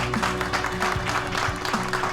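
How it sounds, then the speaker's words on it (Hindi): A crowd applauds at a celebration in an Urdu-dubbed Turkish drama: steady, dense clapping for the full two seconds at moderate volume over a faint tonal background, with no voices. "इन दोनों के लिए भी जबरदस्त तालियां होनी चाहिए।"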